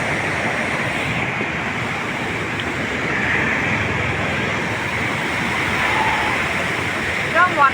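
Rushing water pouring in a hilly area, a steady loud broadband roar like a small waterfall or fast stream, continuous throughout with a brief voice near the end.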